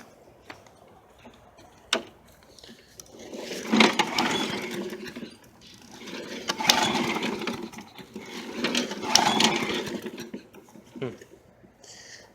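A Power Block lawnmower engine is being started at full throttle, with a few rough bursts of cranking and sputtering of moderate loudness, separated by quieter gaps.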